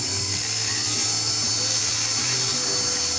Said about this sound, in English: what I'm gonna start with is a medium coarse wheel from Rio Grande